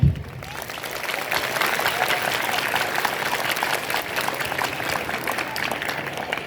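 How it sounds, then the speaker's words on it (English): An audience at a school Teachers Day event claps steadily and evenly for several seconds, a dense, moderately loud patter with a faint voice or two underneath. "please clap"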